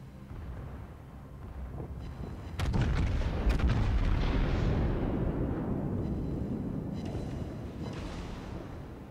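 Heavy naval gunfire in World of Warships from a tier 10 battleship against a tier 8 battleship: a couple of sharp booming salvos around the middle, followed by a long rumbling roar that slowly fades.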